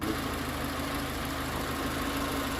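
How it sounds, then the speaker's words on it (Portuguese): Nissan March engine idling steadily with a low, even mechanical drone and faint rhythmic knocking, continuous and close throughout. "Eu vou ligar o carro aqui agora para vocês entenderem."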